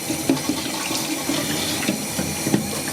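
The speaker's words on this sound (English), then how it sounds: "he's gonna just add some water because he wants to get out all the seasoning" Water runs from a tap into the bowl that held seasoned chicken for stew, a steady close splashing fill with small gurgles and no talk.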